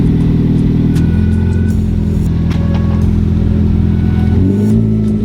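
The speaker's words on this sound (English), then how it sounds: "So first test is the driveway test to see if we can even get out." A lowered Subaru BRZ pulls out of a driveway, its engine humming steadily and close up with a low, continuous drone that shifts slightly in pitch as it rolls and accelerates gently.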